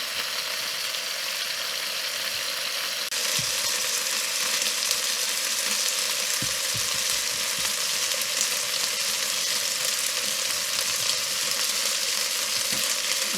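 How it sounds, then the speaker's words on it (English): Pork chops sizzle steadily in a hot frying pan, a constant loud crackle with occasional soft clinks and shifts. "I've had the 5 minutes now in the frying pan"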